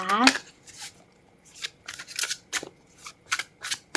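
Tarot cards riffled and shuffled by hand during a reading, a run of crisp papery flutters and snaps in short irregular bursts, close and fairly loud, after a brief voice at the start.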